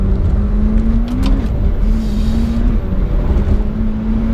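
A McLaren 720S sports car accelerating hard, heard from inside as a loud engine note rising in pitch, dropping at a gear change, then climbing again under heavy wind and road roar.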